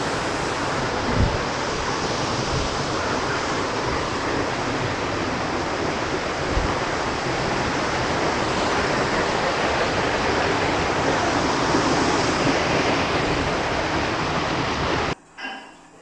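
A waterfall at a tea estate bungalow in Valparai pours in a dense, steady roar of rushing water close by, loud and unbroken until it cuts off near the end.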